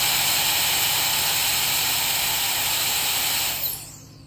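An electric compressed air duster blows a steady, loud broadband rush of air held at distance for several seconds, with a motor whine underneath, then cuts off and winds down near the end.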